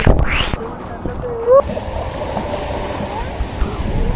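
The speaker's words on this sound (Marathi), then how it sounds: "हे लाट आले आमच्यापर्यंत आलीच नाही" Surf washes steadily onto Varsoli beach in Alibag, under wind buffeting the microphone, with a few brief whistling and clicking sounds near the start.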